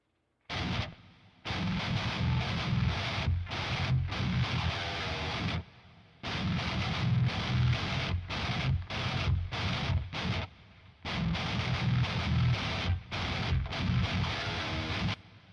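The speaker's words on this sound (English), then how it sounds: "so let's add a little reverb to that." A loud, dense music or sound passage in repeated bursts with brief dropouts, the tails washing out with added reverb, no talking.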